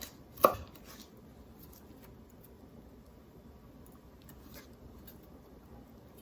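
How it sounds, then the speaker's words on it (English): A knife cuts into a red onion with one sharp, close chop on a board, followed by a few faint, softer slicing taps in a quiet room. "once I start like slicing the onion,"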